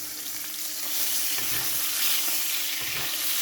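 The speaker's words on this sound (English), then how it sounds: "I'm going to keep on basting" Steak sizzling hard in a hot pan while being basted with fat, a loud, close, steady crackle with a couple of brief spoon-scraping bursts, no voices.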